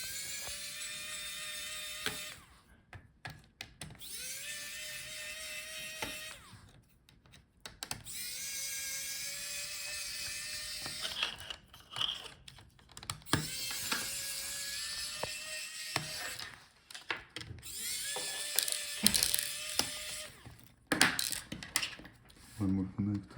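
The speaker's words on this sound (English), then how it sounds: "Alright, now let's take out all the screws." A small power screwdriver repeatedly whirs as it backs screws out of an HP Omen 15 laptop, in several rising buzzes separated by clicks and light metallic handling of parts, close up and without talking.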